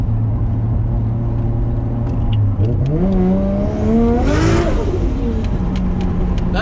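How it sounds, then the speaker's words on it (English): A Nissan R33 with a built RB25DET engine revs hard, its pitch climbing and sweeping up to a peak before settling back into a rumbling idle, loud and close with faint voices beneath. "I love when people tell me to rev it up."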